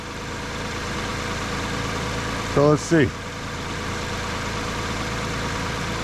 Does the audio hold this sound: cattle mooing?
no